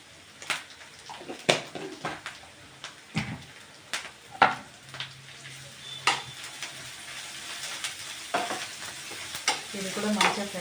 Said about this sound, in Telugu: ఇది కూడా మంచిగా ఫ్రై చేసుకోవాలి పసుపు వేసిన తర్వాత.